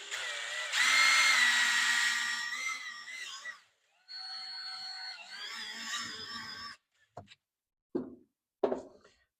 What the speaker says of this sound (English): I'm going to go ahead and drill one hole right here.